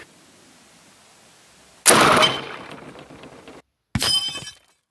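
An air rifle shooting hard or soft cast lead bullets over a chronograph outdoors: one sharp, loud crack that rings and decays, then after a short silence a second brief burst of noise.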